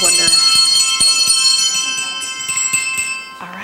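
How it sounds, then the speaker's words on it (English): Hand bells rung in a church memorial for the dead, repeated bright ringing strikes with long sustained tones that overlap and fade, close and fairly loud, ending with a voice. "let's ring the bells"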